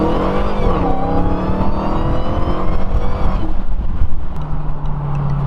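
A 2018 Dodge Challenger Hellcat Widebody's engine revs hard during a launch at around 3,500 to 4,000 RPM, a loud, close, sustained roar with rising and falling pitch and tire noise.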